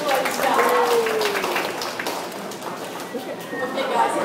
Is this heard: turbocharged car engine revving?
no